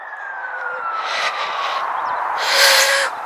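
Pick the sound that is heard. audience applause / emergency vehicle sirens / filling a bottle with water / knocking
emergency vehicle sirens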